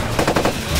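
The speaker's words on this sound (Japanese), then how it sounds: "味方を撃たないでください" Rapid automatic gunfire in Ghost Recon Advanced Warfighter 2, a burst of close, loud shots repeating in a quick rhythm for just under a second with no talk over it.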